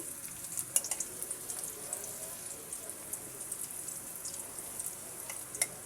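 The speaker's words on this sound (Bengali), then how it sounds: "কড়াইয়ে তেল দিয়ে আমি পেঁয়াজ কাঁচামরিচ সুন্দর করে ভেজে নিচ্ছি" Onion, garlic and green chili fry in oil in a wok with a steady close sizzle, studded with scattered crackling pops throughout and no voices.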